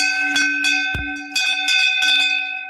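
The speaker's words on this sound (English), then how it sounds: "Oh, it's like a gong, such a rich sound." A Mexican bell is struck and rings like a gong, loud and close, with a rich sustained tone and several overlapping strikes whose tones blend into a steady, church-bell-like ring.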